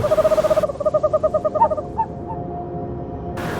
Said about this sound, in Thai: นกข้าแมวที่อาศัยอยู่บนโพรงอันสูงลิ่ว ยามค่ำคืน นกพวกนี้จะส่งเสียงโหยหวนออกมา